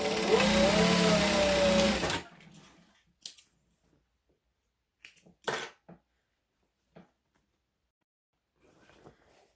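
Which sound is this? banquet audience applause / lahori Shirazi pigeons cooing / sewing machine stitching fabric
sewing machine stitching fabric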